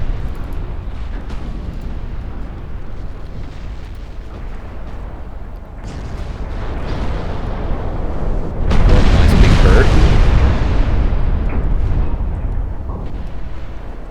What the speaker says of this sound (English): I got 2 torpedo hits.